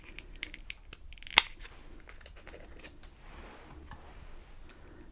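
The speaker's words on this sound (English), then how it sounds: "I'll remove them from this little plastic, little card" Earrings being pulled off a small plastic card, producing a few light clicks and soft scratchy rustles up close, with one sharp snap near the middle and another faint click near the end, in a quiet room.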